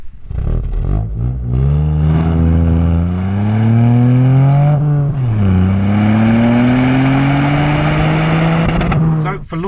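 A 2020 Ford Fiesta ST with a manual gearbox accelerating hard, the engine note climbing steadily, dropping briefly at a gear change near the middle, then rising again, loud and close, no talk.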